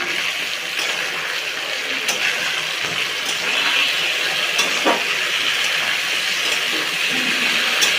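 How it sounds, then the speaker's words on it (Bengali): Potatoes with onion, garlic and salt frying in hot mustard oil in a wok, a steady close hiss of sizzling that runs unbroken, with faint scrapes and clicks on top. "তেল গরম হতেই কেটে রাখা আলুগুলো দিয়ে দিলাম কড়াইতে"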